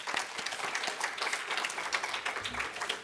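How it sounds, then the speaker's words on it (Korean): A church congregation applauds during a Sunday service, sustained mid-distance clapping from many people that fills the space evenly, with a low thump near the end. "우리 그 주변에 계신 분들한테 축복의 박수 한번 보내시면 좋겠습니다."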